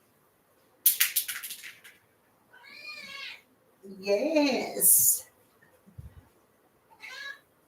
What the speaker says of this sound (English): My kitty wants to get down.